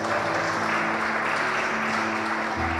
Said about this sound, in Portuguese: Dê um aplauso para esse Deus mais uma vez.